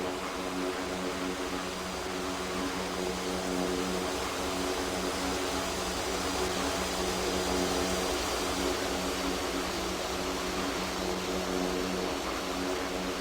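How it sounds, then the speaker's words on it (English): A Bombardier Dash 8 turboprop airliner taking off roars with a steady, loud, broadband engine and propeller drone and a constant hum, sustained evenly close by without a break. "A Tickle Airlines plane is cleared for takeoff. It takes off smoothly."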